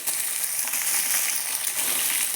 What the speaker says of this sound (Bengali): ঝিঙেগুলো দিয়ে অনবরত কষতে হবে